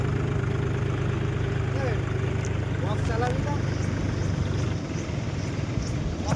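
A John Deere 5050D tractor engine runs steadily while driving through lightly muddy fields after rain, a continuous loud low rumble throughout, with someone talking over it.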